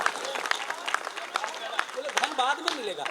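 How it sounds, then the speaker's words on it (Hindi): Applause from an audience at a comedy and entertainment event at Dhanbad Club, with dense clapping running steadily throughout and a voice speaking over the last second. "ताली बजाइए"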